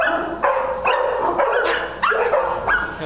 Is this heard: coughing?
no